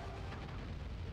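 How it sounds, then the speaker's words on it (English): Rapid cannon explosions from the Sly 3: Honor Among Thieves game on PS3, a dense continuous barrage of booms filling the short moment at steady loudness with no talk. "How many cannons was that?"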